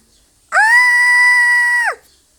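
A young wife's sustained, piercing scream in a dramatized telling of the Bluebeard folktale, rising sharply, holding steady and loud for about a second and a half, then cutting off, with no other sound around it.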